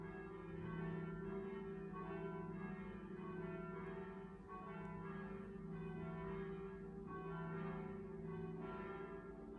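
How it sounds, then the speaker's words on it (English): Church bells ring in Venice, several bells sounding together in a sustained, overlapping peal with repeated strikes, heard from a distance at a steady level with no voices. "then there was the church bell concert"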